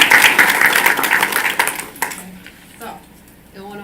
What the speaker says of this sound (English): another round of applause for these great math students